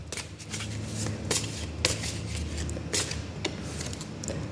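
Tarot cards being shuffled before a draw give a dense, continuous riffling patter with sharp slaps and flicks every second or so, close and loud.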